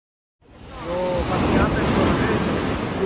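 Steady surf washing onto a beach at night, broad and continuous after a brief silent start, with wind buffeting the microphone throughout.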